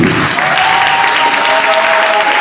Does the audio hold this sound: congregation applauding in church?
yes